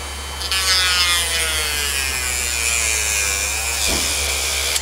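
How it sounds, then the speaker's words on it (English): A Dremel rotary tool with a sanding pad hums steadily while sanding a surface, a continuous close whine with a brief dip near the end. "Probably want to make sure you got a good little sanding pad on your Dremel."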